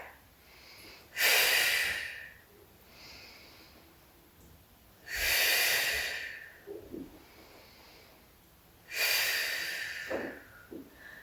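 Slow, deep breaths during a Pilates spine corrector workout, three strong audible exhales spaced about four seconds apart with quieter inhales between, close and clear with no talking.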